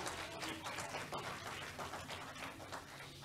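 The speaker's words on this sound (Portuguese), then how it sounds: "Dê um glória e um aplauso para Jesus Cristo." Congregation applause at an evangelical church service, a faint, steady wash of many hands clapping together for a few seconds with no voices over it.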